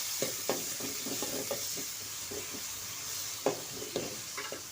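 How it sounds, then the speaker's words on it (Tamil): Green chillies and onion stir-fried in oil: a constant sizzling hiss under a run of quick, close scrapes and taps as the pan is stirred. "ஒரு நாலு பச்சை மிளகா அப்புறம் ஒரு பெரிய வெங்காயம் சேர்த்து நல்லா மிக்ஸ் பண்ணிக்கலாம்"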